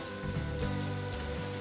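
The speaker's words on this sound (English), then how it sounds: "It is raining." Quiet, steady rain falls in the woods along the Appalachian Trail on a cool May morning, a faint continuous patter with no voices.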